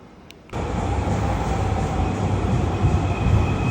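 A train pulls in at a station platform at Kansai Airport in Japan, its steady loud rumble and hiss starting abruptly and continuing alone, close by, with no talking.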